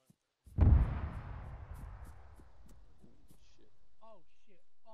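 A heavy explosion booms in a military video game, a sharp onset followed by a long rumbling decay, with faint scattered pops and chirping sounds trailing afterward.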